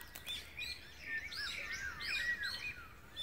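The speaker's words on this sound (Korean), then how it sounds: "새들이 벌써 아침부터 일어나서 지저귀기 시작합니다." Early-morning birds chirp and twitter overhead at a backpacking bivouac campsite, with many quick overlapping calls from several birds, fairly faint and continuous in a quiet outdoor setting.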